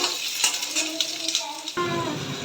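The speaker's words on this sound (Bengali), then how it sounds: "এগুলো একটু তেলের মধ্যে দিয়ে হালকা করে নাড়াচাড়া করে নিচ্ছি" Marinated chicken pieces fry in hot white oil in a wok, giving a steady crackling sizzle broken by scraping stirs and a louder surge near the end, with a voice talking faintly underneath.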